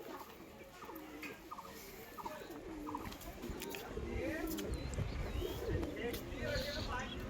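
Pigeons coo softly in repeated low calls amid quiet outdoor background noise, with people talking faintly nearby.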